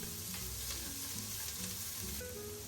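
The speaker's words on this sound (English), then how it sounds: "Add diced onions. Keep mixing until your onions are transparent." Diced onions frying with browned lamb shanks in a pot, a continuous sizzle with light scraping of a stirring spoon, close and steady with no talking.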